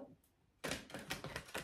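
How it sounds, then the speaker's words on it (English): Tarot cards shuffled by hand at close range: a quiet pause, then a run of crisp, papery riffling bursts that come in quick, uneven pulses. "Let's do 2 more shuffles"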